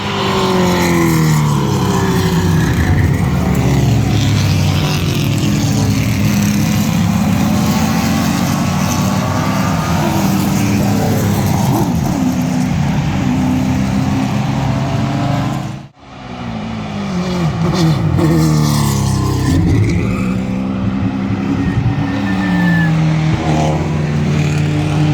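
Race cars lapping the Blackhawk Farms circuit during a track day, a loud, unbroken engine roar with layered harmonics that dips briefly near the middle before surging back, with no voices.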